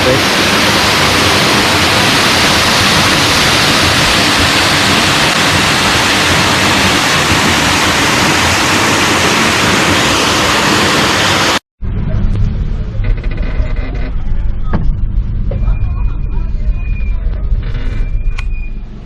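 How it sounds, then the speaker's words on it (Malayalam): A waterfall in Grenada roars loud and unbroken for most of the stretch, then cuts abruptly to a much quieter outdoor scene. "ഗ്രനേഡയിലെ വെള്ളച്ചാട്ടത്തിൻ്റെ മുന്നിലാണ് നമ്മൾ നിൽക്കുന്നത് അടിപൊളി ഒരു വെള്ളച്ചാട്ടമാണ്"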